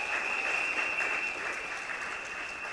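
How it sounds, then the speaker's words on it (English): Audience applause at a campaign slate launch event in a hall, a dense, even wash of many hands clapping at moderate distance, steady for the whole stretch. "Please give them a round of applause."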